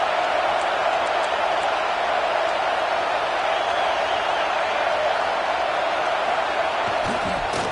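Steady roar of a stadium crowd at a college football game between Navy and Clemson, with the home team pinned deep in its own end; a dense, continuous wash of voices runs evenly for the whole stretch with faint commentary beneath.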